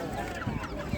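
Chickens and roosters cluck at a poultry market, with short clucks sounding nearby amid dense crowd chatter.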